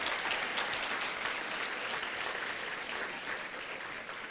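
An audience at a school district awards gala claps for an honoree, a broad, steady wash of applause from a large room, moderately distant and continuing evenly without speech.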